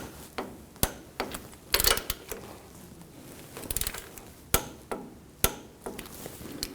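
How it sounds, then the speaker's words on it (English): A torque wrench tightens bolts to 37 foot-pounds on the shock and spring assembly of a 2014-2018 GMC Sierra. Sharp, close metallic clicks and knocks come at irregular intervals over faint background noise, with no talk. "Now we're going to torque these bolts to 37 foot-pounds."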